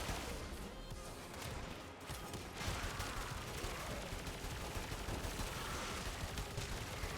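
Rapid continuous gunfire from the Braton Prime Incarnon rifle in the game Warframe, a dense, sustained crackle of shots running unbroken throughout at steady loudness.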